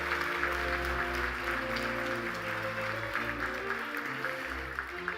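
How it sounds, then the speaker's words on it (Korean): Audience applause at an award ceremony, steady sustained clapping throughout, heard under a sustained musical fanfare. "내빈 여러분, 뜨거운 박수로 축하해 주시기 바랍니다."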